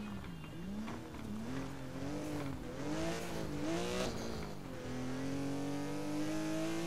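A Porsche engine in Need for Speed Most Wanted revs up and down through several gear changes, a loud, close, continuous sporty growl with faint tyre noise.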